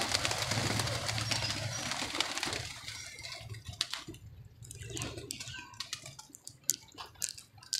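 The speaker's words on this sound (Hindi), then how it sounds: "और एक और कबूतर आया हुआ है" A pigeon cooing low and soft at close range, a steady murmur for the first few seconds, then fainter amid scattered small taps and clicks.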